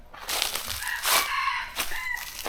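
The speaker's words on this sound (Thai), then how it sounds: "ไก่ป่านะครับผม โอ้โห เยอะมากครับไก่ป่าด้านล่างนะครับ" Red junglefowl cluck and call in short harsh bursts amid rustling, with a couple of birds sounding close.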